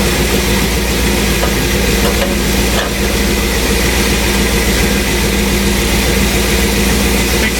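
A 1957 Cadillac fitted with a swapped-in LS3 V8 idles steadily and loud, a constant low rumble with no talk over it.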